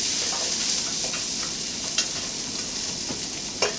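A handful of cabbage wilting in warm butter over medium-high heat, with a steady close crackling sizzle broken by two or three crisp utensil taps, no voices.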